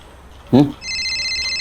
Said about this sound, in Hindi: डीसीपी साहब का फोन।